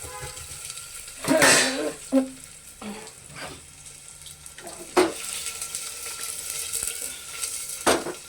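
Cumin seeds and chopped onions dropped into hot oil for dal in a home kitchen give a bright sizzle and frying hiss, with sharp bursts of spatter and stirring noise over a continuous low crackle.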